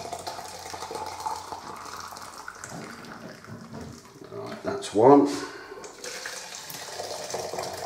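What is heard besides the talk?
filling tins with boiling water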